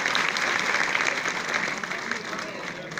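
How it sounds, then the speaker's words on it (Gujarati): Audience applause at a stage event: dense, steady clapping from a crowd that holds at a fairly even level throughout, with no voices standing out above it. "તાળીઓ ગડગડાટ કરી દઈએ"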